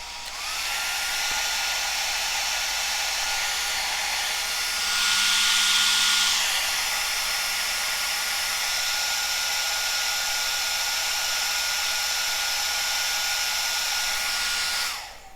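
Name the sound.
Cascade DS-925 hair dryer running after repair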